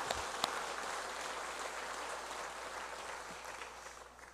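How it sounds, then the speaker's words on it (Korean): A church congregation claps during a Korean Easter worship service, giving a steady, dense patter of many hands at moderate distance that holds evenly before tapering slightly at the end; no talking over it. "우리 모든 분들을 위해서 박수 한번 하시겠습니다."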